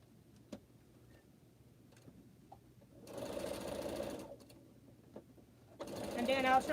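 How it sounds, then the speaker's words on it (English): A sewing machine stitches pieces of a pineapple-block quilt in short bursts, a fast mechanical whirr starting and stopping between quiet pauses and small clicks. "Got 2 more pieces to sew."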